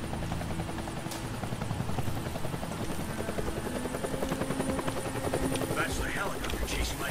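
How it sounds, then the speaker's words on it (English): Helicopter in the video game Deadlight chasing a group of survivors, a loud, steady rotor chop with a continuous engine drone throughout, with voices talking over it. "That's the helicopter chasing my friends."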